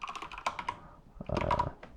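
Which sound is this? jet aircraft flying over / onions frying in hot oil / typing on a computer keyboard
typing on a computer keyboard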